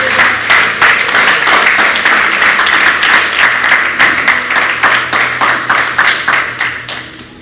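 A church congregation applauding during a French-language sermon: loud, rhythmic unison clapping at a steady beat, many hands together close by, fading toward the end.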